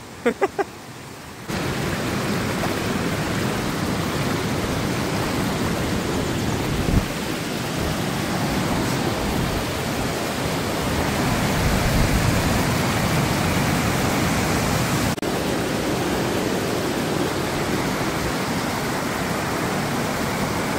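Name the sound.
rushing waterfall in the Krkonoše mountains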